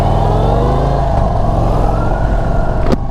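An Indian Sport Chief motorcycle rides through twisting roads, its loud mid-pitched engine note rising and falling as it revs and shifts, close and continuous, ending with a brief sharp clack.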